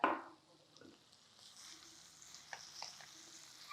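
Steamed chickpea flour patoli, a traditional Telugu dish, fries in a pan with a soft, steady sizzle and a few faint stirring scrapes, quiet and close with no voices.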